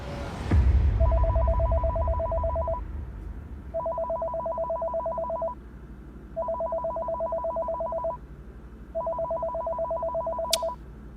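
At a police station, a telephone rings with an electronic trill in four evenly spaced bursts, each lasting about two seconds, clear and fairly close.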